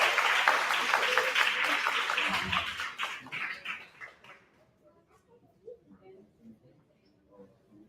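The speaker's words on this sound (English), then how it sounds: "Let's give Bob Bomani another round of applause." Loud crowd applause at a 2023 graduation ceremony for a speaker, a dense clapping wash for about three seconds that quickly fades into scattered claps and quiet room noise.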